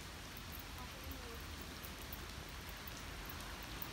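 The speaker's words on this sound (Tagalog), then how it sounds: "Ang lakas ng ulan." Heavy rain pours steadily outside an onsen hot spring in Japan, a dense, even hiss that fills the whole scene without a break.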